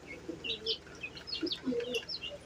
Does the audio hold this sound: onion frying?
no